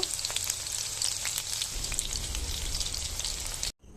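Chicken pakoras fry in hot oil with a steady, close crackling sizzle and scattered pops throughout, until it cuts off abruptly at the very end.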